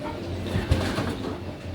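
Pigeons kept as player pigeons coo softly in a loft, a low repeated murmur with one brief louder note midway, steady and close against faint background noise.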